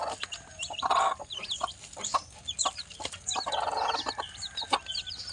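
A hen clucks repeatedly around an abandoned house, with chicks nearby, her short clucks and high chirps scattered through a steady outdoor background.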